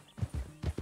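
Horse hooves clip-clop in a steady, close rhythm as a rider sets off in Red Dead Redemption 2, a few distinct thuddy steps heard clearly on their own.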